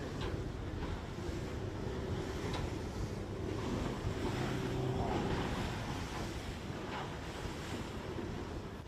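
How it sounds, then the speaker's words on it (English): A race boat at the NSW Championship crosses big waves from a luxury pleasure ship's wash, a steady roar of wind and churning water that stays loud throughout, with no talk. "we're just over the wash of a big luxury pleasure ship"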